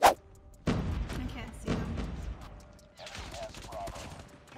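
A sharp sniper rifle crack opens the scene in Call of Duty Mobile, followed by several heavy booming shots and thuds spaced a second apart, with speech-like game chatter near the end.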